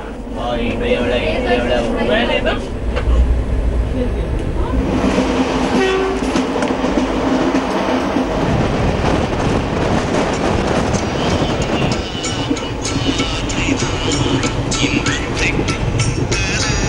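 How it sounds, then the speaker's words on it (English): A passenger train from Mumbai CST to Kanyakumari rolls steadily along the track, its carriage filled with loud, continuous rumble and wheel clatter, with a horn and some squeal rising through the noise. "We board our last train for track and traction."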